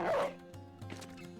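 In the video game Battle Brothers, a war dog gives a short bark amid a soft rustling burst, followed by quieter low yips or growls, all fairly faint.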